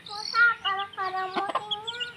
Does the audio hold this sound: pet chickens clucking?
yes